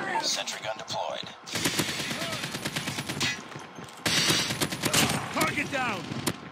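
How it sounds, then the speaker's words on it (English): A deployed sentry gun fires in Call of Duty Mobile, rattling off rapid automatic bursts in several volleys with short gaps between them. Game voice lines speak over the gunfire. "Sentry gun deployed."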